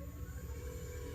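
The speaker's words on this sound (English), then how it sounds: "So it'll turn on to its low setting first." A 1983 Volkswagen Rabbit GTI's air conditioning compressor, running on its low setting, makes a faint, steady low drone with a slight rhythmic throb, heard from a distance with no talking.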